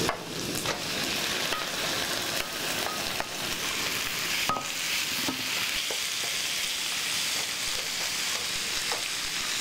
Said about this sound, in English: Give a little stir and add the pork.